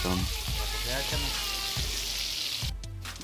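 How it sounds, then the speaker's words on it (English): Shrimp in a frying pan give a loud, steady sizzle and crackle with a few thumps from tossing, while a voice talks faintly underneath; the frying cuts off sharply near the end. "then they're gonna get tossed in the pan"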